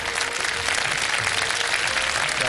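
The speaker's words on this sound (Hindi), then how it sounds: "तालियां।" Sustained applause from a studio audience on a televised Ramadan iftar quiz show fills the space, a dense even wash of many hands clapping with no talk over it.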